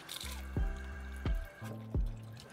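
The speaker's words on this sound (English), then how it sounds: "And we'll fill it up with some water." Water filling a bucket for an aquarium filter setup: close, distinct splashes and droplet plops at irregular intervals over a low steady pump-like hum, with no voices.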